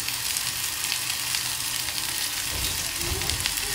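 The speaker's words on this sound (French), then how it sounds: "j'ai fait chauffer un tout petit peu l'huile d'olive. Je viens mettre mes pommes de terre" Potatoes sizzle steadily in hot olive oil in a pan, a close, even crackling hiss that persists throughout with a few louder bursts of spattering near the end.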